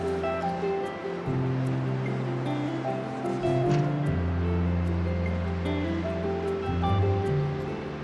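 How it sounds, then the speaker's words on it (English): Ocean waves rolling onto a beach at sunrise, a steady low surf wash with swells breaking and retreating every few seconds, moderately close and alone with no talk. "capture real-time video and the ambient sounds of the ocean"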